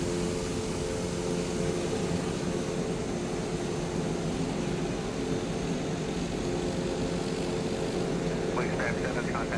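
A Twin Otter propeller aircraft drones steadily nearby at an airfield, a continuous loud engine hum with steady tonal bands, holding without break throughout.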